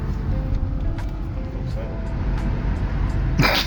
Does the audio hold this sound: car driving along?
yes